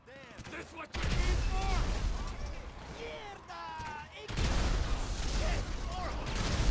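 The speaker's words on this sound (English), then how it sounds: "There we go, beautiful explosions." Explosions and gunfire in GTA V, a dense burst of loud blasts and crackling shots with two sharp heavy onsets, while someone talks through the action.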